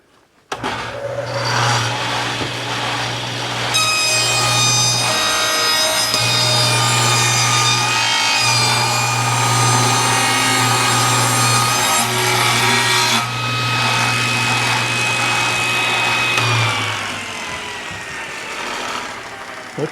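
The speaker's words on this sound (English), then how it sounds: "we can now run it through the table saw and get our finished width" A table saw rips a board to its finished width in one long, steady cut. The loud motor hum and blade whine run almost unbroken for about fifteen seconds, then the blade spins down as the cut ends.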